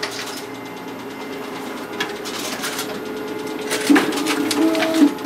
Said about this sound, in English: And here we have our test copies double stapled through the document feeder.